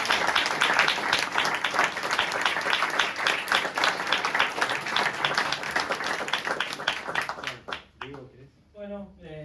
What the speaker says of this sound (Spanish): Que podemos hacer es un primer aplauso.